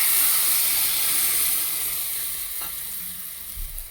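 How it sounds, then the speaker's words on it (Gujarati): Tomato gravy hitting hot oil in a pan while tomato chutney is cooked gives a loud, steady, hissing sizzle up close, easing slightly toward the end. "તો હવે આપણે ટમેટાની ગ્રેવી પણ નાખી દેવાની છે."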